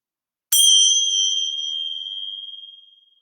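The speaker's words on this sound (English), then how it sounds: "So let's begin with the bell." A single bright bell struck once to open a yoga session, a clean metallic ding with a long shimmering ring that fades slowly over about three seconds, close and alone in a quiet room.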